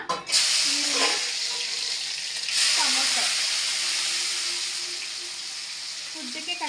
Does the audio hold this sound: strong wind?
no